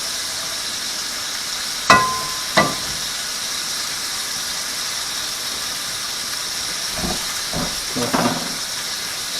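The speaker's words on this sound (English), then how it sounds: "Go ahead and throw my garlic in here now." Garlic sizzles in olive oil in a pan, a constant hiss punctuated by two sharp clatters early on and a few softer scraping knocks near the end.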